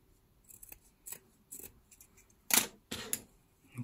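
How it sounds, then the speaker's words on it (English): Scissors snip through a small piece of fabric in a quiet room, with a series of short, crisp cuts that grow louder toward the end. "oh yeah, that's my scissors."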